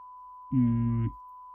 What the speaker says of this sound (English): Sine wave is only playing here.